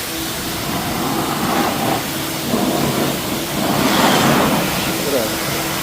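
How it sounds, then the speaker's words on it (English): Loud steady air blast from a dryer blowing water off a ceramic-coated car, a broad whooshing hiss with a few surges in strength throughout. "Now we're gonna try this dryer."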